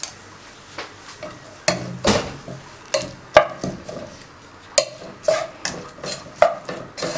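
Onions are sautéed in a pan with a spatula, giving irregular sharp scrapes and knocks against the metal every second or so over a faint sizzle, close and with no voices.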